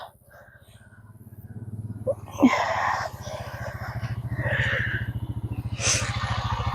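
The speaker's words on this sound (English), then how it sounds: "I hear Scott coming again on the four-wheeler" A four-wheeler ATV approaches on a farm during a sweet potato dig, its low engine chugging in a fast, even pulse that grows steadily louder, with a few brief scrapes and clanks over it.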